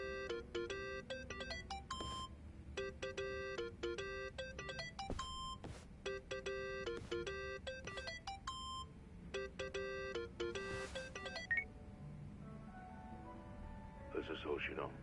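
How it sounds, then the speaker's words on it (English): A phone in the video game Yakuza: Like a Dragon rings in repeated electronic melodic bursts, each about two seconds long with short gaps between them, fading out near the end. "Think that's your phone, man."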